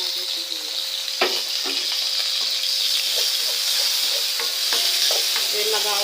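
Onion sautés in a pan for Thai-style seafood marinara pasta, giving a loud, constant hissing sizzle close by, broken by occasional sharp crackles and stirring clicks, with no talking.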